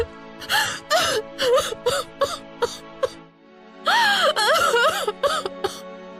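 A woman weeps and wails in long, pitched, wavering cries broken by gasping sobs, loud and close, with a brief pause before another sustained bout of crying.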